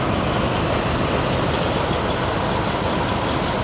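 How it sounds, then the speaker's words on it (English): A Dodge engine runs steadily at idle, giving a loud, continuous low rumble with no voices over it. "The engine sounds as it should."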